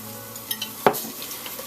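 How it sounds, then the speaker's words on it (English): Crab meat with oyster sauce is stirred in hot oil for a crab, asparagus and egg soup, giving a short sizzling fry with one sharp stir-and-scrape burst, close and fairly loud. "Give it a fry."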